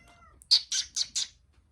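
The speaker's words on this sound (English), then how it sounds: "My cat's crying, sorry." Cat crying in a quiet room, a short run of four quick, close, plaintive meows in an even rhythm, with nothing else heard.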